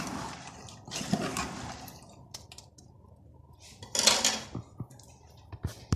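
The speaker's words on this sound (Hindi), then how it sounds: "बस अब इन चनों को इसमें थोड़ा सा भूनेंगे, चलाएँगे" Soaked black chickpeas being stirred and lightly roasted in a pan, with scraping and clinking of a spoon against metal in irregular bursts, one louder rattle near the end, close and fairly quiet.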